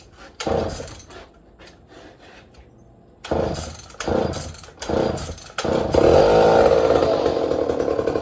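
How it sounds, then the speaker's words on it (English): A John Deere 50V chainsaw engine with no chain fitted is pulled and sputters, then catches and revs, ending in a sustained loud running roar. It is close, with uneven bursts before it settles. "There's no chain on there, so the clutch is just going."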